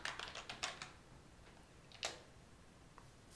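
Quiet keystrokes on a computer keyboard while a file is opened in the nano editor on a Raspberry Pi, a quick cluster of taps followed by sparse single clicks.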